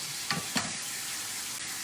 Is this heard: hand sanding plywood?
no